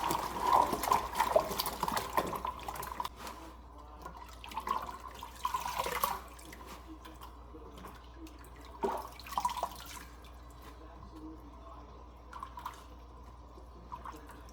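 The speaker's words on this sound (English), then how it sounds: "there's a washing motion as I'm cleaning the greens" Water splashes and drips in a sink as collard, mustard or turnip greens are swished around in salt water, with irregular bursts of sloshing and quieter dripping gaps between.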